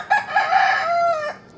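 A rooster crows once, loud and close, with a drawn-out call among backyard chickens kept at home.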